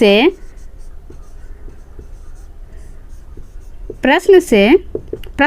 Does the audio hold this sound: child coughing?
no